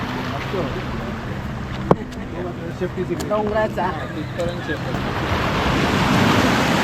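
Sea waves wash and surge close by at the Devbag confluence point in Malvan, where sea meets a calm river, amid wind and a boat engine's hum, with a brief sharp knock and scattered chirping sounds.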